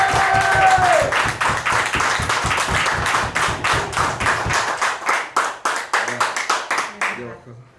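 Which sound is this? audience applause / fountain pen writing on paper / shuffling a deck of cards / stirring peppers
audience applause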